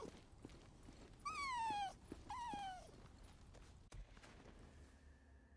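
A trapped puppy in Days Gone whimpers in two drawn-out, high, falling whines, fairly close and clear, with soft rustling and a faint thump afterward and no talk.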